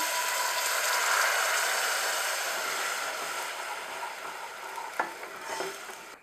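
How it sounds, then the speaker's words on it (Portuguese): Garlic sautéing in olive oil in a pan for a quick low-carb stuffed pasta dinner, a steady close broadband sizzle that eases slightly, with a couple of faint utensil taps near the end. "E refogar o alho, óbvio, você pode também botar cebola"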